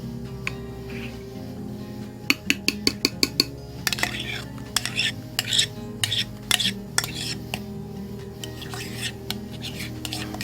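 A spoon scrapes out a bowl while folding homemade horseradish sauce, with a run of sharp metallic clinks and taps followed by softer scraping strokes, close up, with some faint talk.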